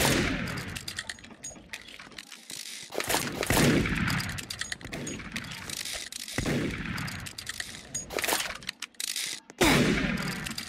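Gunshots in the Roblox game Murder Mystery 2 come as sharp, loud bursts of rapid firing separated by short pauses, with no talking over them.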